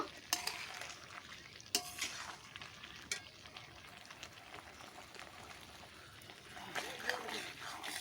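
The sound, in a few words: gently stirring brinjal shrimp curry in a pan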